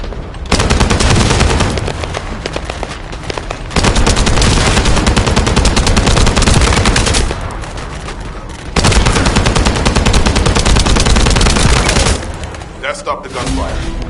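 Sustained bursts of rapid automatic gunfire in the video game The First Descendant, loud and dense, with brief lulls between volleys and a voice speaking near the end.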